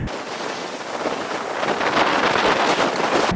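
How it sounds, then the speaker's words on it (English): Wind gusting across an open golf course, a broad steady rush buffeting the microphone and swelling slightly louder toward the end, with no talk. "That wind's getting up now"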